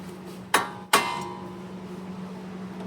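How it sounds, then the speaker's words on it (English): Two sharp metallic hammer blows on a tie rod end during strut and axle work on a Volvo C70, each a bright clang with a short ringing decay, close and isolated against quiet garage hum. "then I'm gonna hit that with a hammer"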